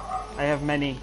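A pet dog gives a couple of quick, close yips or barks indoors, overlapping with someone speaking.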